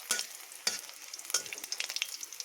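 Black cumin seeds fry in a pan while being stirred, producing a quiet sizzle broken by sharp clinks and scrapes of a spoon against metal in an uneven rhythm.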